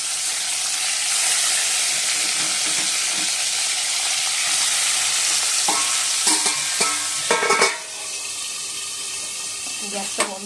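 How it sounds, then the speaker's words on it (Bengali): Food frying in a little oil, spitting and splattering in all directions, a steady close hiss of sizzling with scattered stirring clatter and sharper crackles toward the end. "তেল দিয়ে চতুর্দিকে ছিটকে আসছে।"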